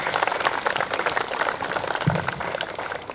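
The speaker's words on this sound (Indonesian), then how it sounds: "Tepuk tangan dulu buat kita semua." An indoor audience at a Papuan cultural gathering in Jakarta claps together in sustained, dense applause for a few seconds.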